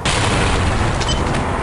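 A satchel charge detonating in the Half-Life video game, a loud, dense blast with a sustained rumbling roar that holds steady for under two seconds, with no voices.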